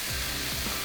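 Filet mignon steaks sizzle on a hot Pit Boss griddle without oil, a steady hissing fry that stays close and even throughout.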